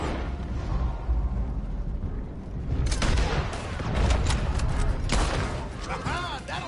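Gunfire from a stagecoach shootout on a blocked road in Red Dead Redemption 2, a dense burst of repeated shots and impacts mixed with game music, mostly packed into the second half, with voices talking over it.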